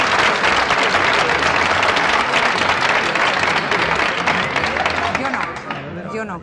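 Loud, sustained applause from a TV studio audience fills the whole stretch, a dense wash of clapping with crowd murmur that begins to thin and fade near the end.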